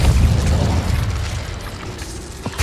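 Incendio fire spell cast in the Hogwarts Legacy video game, a loud rumbling boom that opens strongly and rolls on as a dense fiery roar with small pops.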